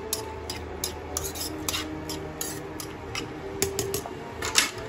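Pasta being lightly fried in a pan while a utensil scrapes and taps against the metal in quick, irregular clicks over a low background sizzle, close up and with no talking.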